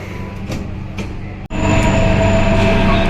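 Steady rumble and whine of a Delhi Metro train in motion, briefly cut by a sharp click, then louder continuous rolling noise with a high tonal hum.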